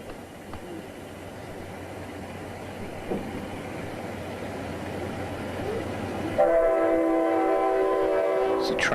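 A train roars past near a 1992 high school baseball game between Fort Gibson and Stilwell, a loud sustained rumble that gives way to a blaring multi-tone horn near the end, with faint commentary beneath.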